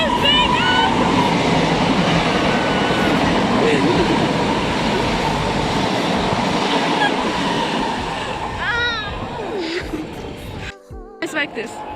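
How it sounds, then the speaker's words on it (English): A train passes close by, a loud sustained rumble and rattle of rail cars that fades toward the end, with people talking over it. "I hate when trains like pass by."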